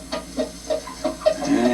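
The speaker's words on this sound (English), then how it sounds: "And there's that old cockbird over there, that Ace." An old rooster in a coop gives a short run of soft, close clucks, five or six quick low calls in an uneven rhythm with no talking over them.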